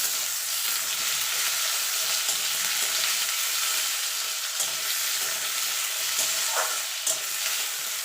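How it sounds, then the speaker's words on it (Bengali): Cashews, ginger, chillies and tomato frying together in hot oil, a steady close sizzle with occasional stirring scrapes and small pops, no voices. "এবার এই মশলাগুলো একসঙ্গে দিয়ে দেবো তেলের মধ্যে, দিয়ে একটুখানি ভাজা ভাজা করে নেব।"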